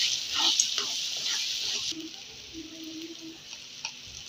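A masala of red chili powder, black masala, turmeric and coriander powder fries in a pan, making a steady close sizzle with soft stirring scrapes; the hiss drops off sharply partway through.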